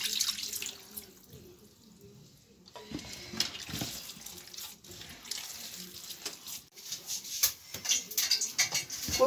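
Water poured and worked into donkounou dough, a steady close splashing and running-water sound with wet sloshing that rises and falls for several seconds, with no talk over it.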